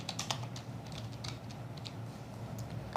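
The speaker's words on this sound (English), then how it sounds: "We're going to select it and we're going to type out Nathan and Holly." Quick, light keystrokes on a computer keyboard as a short name is typed into Cricut Design Space, an irregular patter of close clicks with no voices.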